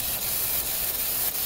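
Short steady hiss of brake cleaner sprayed from an aerosol can onto the clutch gears of an 80/66cc bike engine kit, close and fairly quiet.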